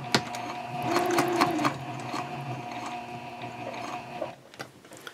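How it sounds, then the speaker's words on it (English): A sewing machine back stitches and then top stitches the edge of a messenger bag, its rapid mechanical whirring running in bursts with brief pauses, close and fairly loud, then stopping near the end. "And I will start out by back stitching."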